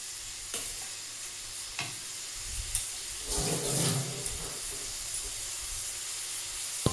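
Medium-sized onions fry and sizzle in a pan with salt added, a steady hiss punctuated by stirring scrapes and a louder burst of sizzling midway, close and clear with no talking.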